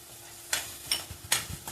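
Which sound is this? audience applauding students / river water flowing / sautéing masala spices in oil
sautéing masala spices in oil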